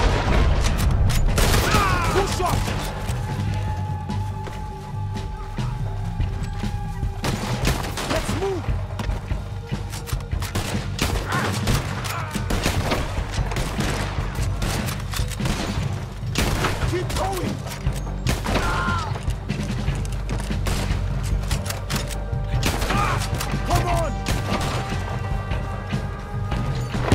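Gunfire in the video game Red Dead Redemption 2, with rapid bursts of shots, crashes and booms filling nearly half a minute of dense combat noise and game music, while voices speak at times.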